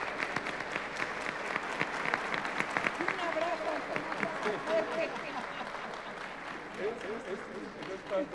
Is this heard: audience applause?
yes